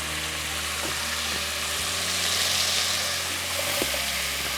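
Beef frying in a pan with curry powder and salt sizzles steadily in a loud, continuous hiss, with a few faint knocks of stirring and a low background hum.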